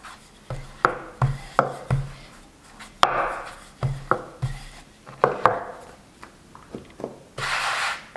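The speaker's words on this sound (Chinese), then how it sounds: "擀成一半的时候，给它翻一个面，继续擀。" Flatbread dough is rolled out with a rolling pin on a board, producing a close series of soft wooden knocks and rubbing strokes in an uneven rhythm, with a brief rustle near the end.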